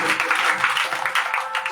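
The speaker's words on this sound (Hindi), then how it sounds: "फिर से जोरदार तालियों को बजाएं।" A church congregation applauds loudly during worship, a short, dense burst of many hands clapping together at once.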